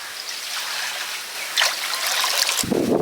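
Rain falling steadily during Cyclone Remal around an enclosed outdoor cooking area, a dense close wash of patter with water dribbling and splashing, and a heavier thump near the end.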